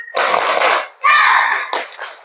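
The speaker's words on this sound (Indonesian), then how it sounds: "Tepuk semangat." Classroom of children doing a patterned spirit clap, loud bursts of clapping in three bunched groups with short gaps between them, close and sharp.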